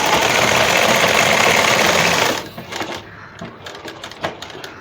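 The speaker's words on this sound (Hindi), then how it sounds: "इस पे रख के इस तरह मजबूत सिलाई लगा लेंगे" A sewing machine stitching elastic onto a hijab inner cap runs in a loud, steady whir for about two seconds, then stops, followed by scattered light clicks and handling sounds.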